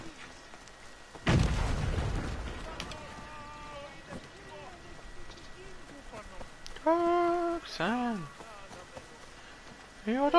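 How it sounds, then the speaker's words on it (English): A single sudden boom from a video game explosion, loud and close with a quick decaying rumble, followed by a voice talking and singing over faint game ambience. "Oh shit, that's gonna explode."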